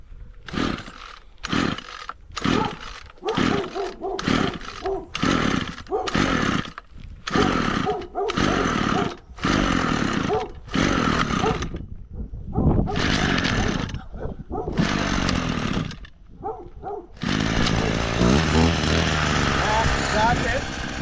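An old two-stroke weed whacker is pull-started over and over. Repeated loud bursts of rough engine roar are broken by short gaps, and the engine finally keeps running steadily near the end, with people talking nearby.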